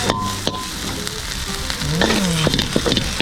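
Dried red chilies fry in oil with a loud, steady sizzle close by, broken by light scraping and stirring.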